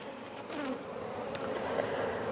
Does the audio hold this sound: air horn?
no